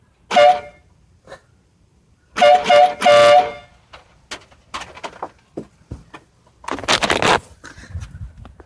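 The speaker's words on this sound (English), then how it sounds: "that's how the air horns sound. Pretty loud." Harbor Freight air horns blast in short, loud bursts: a brief honk, then two longer blasts, later a sustained one, with clicks and handling noises between them.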